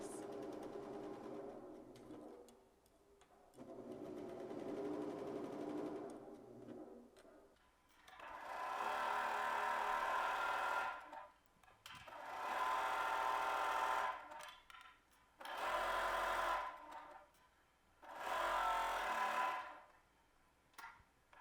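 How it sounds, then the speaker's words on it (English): A sewing machine runs in several bursts of rapid, steady stitching along a dress side seam from sleeve hem to dress hem, with short pauses between runs and no talk. "Now you can serge or sew the entire side seam from the hem of the sleeve to the hem of the dress"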